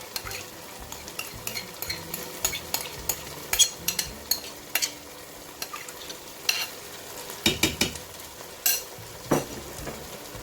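Yogurt masala being stirred into tandoori chicken karahi frying in a pan: a low sizzle under repeated sharp spoon scrapes and clinks against the metal, irregular and close.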